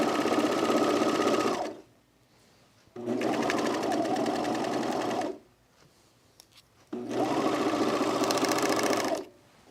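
A serger runs in three long, steady bursts of fast mechanical whirring while sewing the side seam pockets of a dress, with short quiet pauses between the runs.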